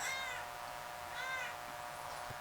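House cat meowing indoors in a kitchen-like setting, two short clear meows about a second apart, near and fairly quiet over a low background hum.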